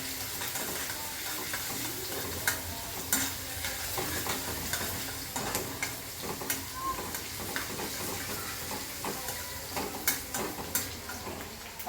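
Garlic browning lightly in a pan for a fish fry, a steady soft sizzle with intermittent stirring scrapes, close and moderately quiet, no voices.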